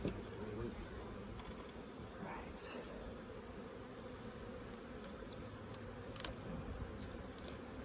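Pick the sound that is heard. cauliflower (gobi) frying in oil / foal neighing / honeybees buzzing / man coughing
honeybees buzzing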